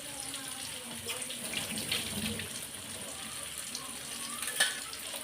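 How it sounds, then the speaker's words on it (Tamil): Running tap water pours steadily while cooking vessels are rinsed in a kitchen sink, a close, even hiss with light clinks of metal pots and one brief knock near the end. "கையோட இந்த பாத்திரத்தெல்லாம் கழுவி வச்சிடுறேன்."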